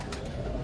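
Low, soft cooing of racing pigeons in Lahore, a brief murmuring call over a dull, steady background.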